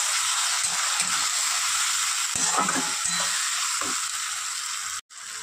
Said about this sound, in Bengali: খুব ভালো করে পেঁয়াজ আর টমেটোটা ভেজে নেব।